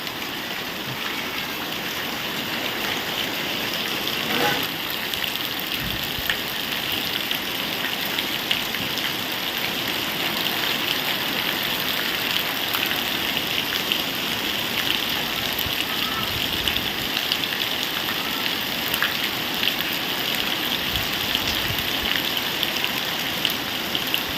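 Heavy rain pours steadily in a dense, even hiss, with occasional louder splashes and faint background sounds.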